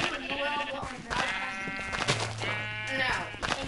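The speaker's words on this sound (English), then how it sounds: "Sheep! My sheep, my lucky sheep." Sheep in the Minecraft video game bleat repeatedly in short wavering calls, close and fairly loud, with some background voices.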